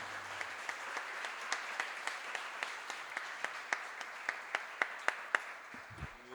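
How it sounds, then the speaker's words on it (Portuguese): A church congregation claps together in a steady rhythmic beat, evenly spaced sharp claps about every third of a second over a soft diffuse background, growing a little stronger toward the end before a brief low thump. "Vamos aplaudir ao nosso Deus."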